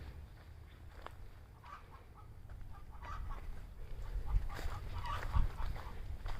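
Chickens cackle in a backyard coop while laying eggs, scattered clucks that start faint and grow louder and busier toward the end over a low background rumble.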